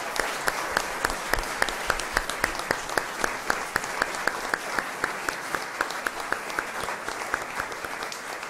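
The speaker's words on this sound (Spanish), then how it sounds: "Un gran aplauso al pueblo de Colombia por lo que ha hecho hoy por nosotros." Sustained applause from a church congregation at a Mass, honoring the people of Colombia; many hands clap steadily and densely throughout, with sharp individual claps standing out, no talking over it.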